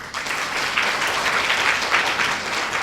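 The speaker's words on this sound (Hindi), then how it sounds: "आप अपने लिए जोरदार ताली बजाकर स्वागत करें।" Loud, steady applause from an audience at a Kabir Jayanti festival satsang gathering at an ashram, continuous clapping filling the whole stretch without a break.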